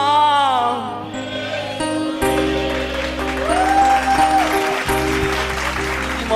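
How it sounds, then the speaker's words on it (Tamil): A congregation claps along during a church worship service, a steady wash of hand claps beneath sustained keyboard music and a singing or preaching voice. "கைய தட்டு."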